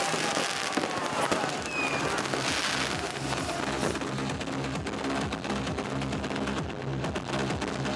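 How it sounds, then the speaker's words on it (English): A gigantic fireworks display at a celebration in Puglia, with dense crackling bursts and booming pops going off continuously at a loud, steady level. "a gigantic firework display"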